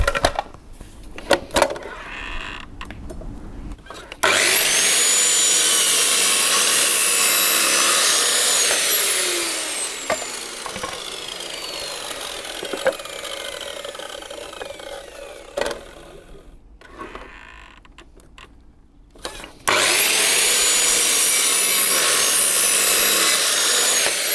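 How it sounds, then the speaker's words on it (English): A power saw trims wooden shelves in a workshop, cutting in long, loud bursts separated by short pauses, with a fainter stretch midway before the cutting resumes at full strength. "Now to trim the shelves."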